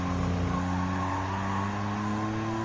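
Jaguar XJ220 engine in Gran Turismo 7 droning steadily with strong low harmonic tones, loud and continuous throughout with no voices.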